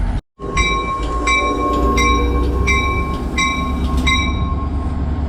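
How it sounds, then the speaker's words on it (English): Passenger train of the Atlantic City Line at Pennsauken station, New Jersey, rumbling past with a steady loud roar and a sustained high tonal whine, plus repeated rhythmic clicks of wheels crossing rail joints. "the eastbound train to Atlantic City will be leaving soon"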